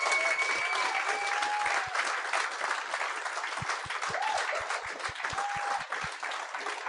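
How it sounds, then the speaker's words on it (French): Studio audience applause welcoming guests Ben Lefebvre and Maxime Martin onto a French-language podcast, a steady dense wash of clapping lasting the whole stretch, with a few whoops and vocal tones rising above it. "j'aimerais ça qu'on donne une bonne main d'applaudissement à Ben Lefebvre et Maxime Martin"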